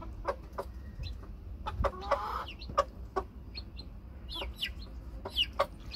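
Chick clucks and soft peeps repeat in short bursts at an irregular pace, fairly close, with a few higher chirps mixed in over a low steady background hum.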